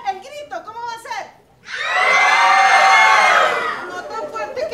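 A group of children shouts the word for fire together in one long, loud sustained yell, preceded by a brief adult voice speaking and followed by more talk.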